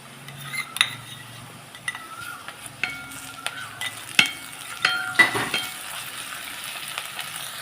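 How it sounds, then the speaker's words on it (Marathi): Garlic-ginger paste cooks in hot oil for a potato and capsicum dish, giving a quiet sizzle beneath repeated light taps and scrapes of a spatula against the pan, with a few sharper metallic clinks. "लसूण अद्रकची पेस्ट इथं तेलात चांगली परतून झालेली आहे"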